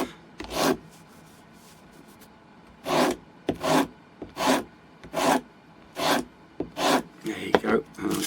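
About eight rhythmic rasping strokes of a hand plane shaving a small wooden tail piece for a model plane, each stroke close and distinct with short pauses between.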